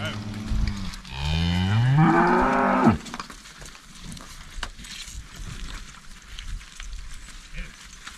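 A cow gives one long, loud, drawn-out moo on a misty morning at a draft horse rodeo, followed by quieter rustling and shuffling of cattle nearby.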